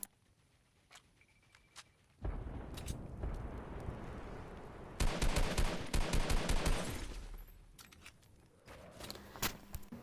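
Gunfire from a battle royale video game, including SMG fire, bursts out in loud rapid volleys with crackling impacts, then fades to scattered faint pops.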